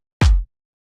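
A single punchy hit: a deep booming kick layered with a bright snappy clap, cut off sharply after a quarter second, followed by silence.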